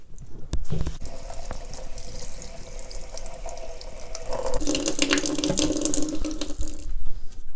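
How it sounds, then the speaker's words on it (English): Cold tap water runs steadily into a sink while pig tongues are rinsed under it, a close, continuous splashing stream that grows brighter and louder partway through, with no talking. "go ahead and rinse under cold water"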